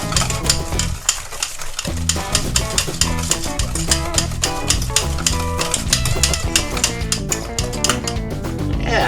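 A spoon stirs pancake-style batter with melted butter in a mixing bowl, a steady run of soft scraping strokes with light clinks against the bowl, set under continuous background music.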